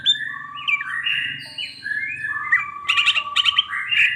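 Green leafbird (cucak ijo), a caged bird in breeding condition, singing a varied run of clear whistles and rapid chirps, close and loud, with a low steady hum beneath.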